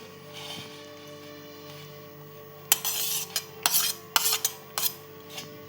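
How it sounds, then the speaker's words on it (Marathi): Chopped onion, capsicum and tomato being mixed together in a bowl for a sweet corn vegetable sandwich, starting with a quiet hum and then several clear clinks and scrapes of a spoon against the dish. "हे सगळं आधी आपण एकत्र करून घेऊया"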